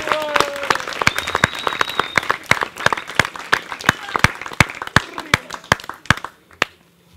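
Audience applause at the opening event of the Big Berry Kolpa resort, a crowd clapping steadily for several seconds with sharp individual claps standing out near the microphone, and a voice briefly audible early on.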